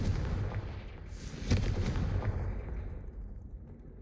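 A Confringo spell explodes in Hogwarts Legacy with a deep, booming blast and a sharp crack, then rumbles away and fades over several seconds.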